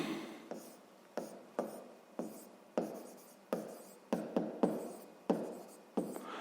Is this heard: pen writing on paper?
yes